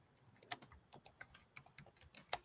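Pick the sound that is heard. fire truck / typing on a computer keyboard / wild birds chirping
typing on a computer keyboard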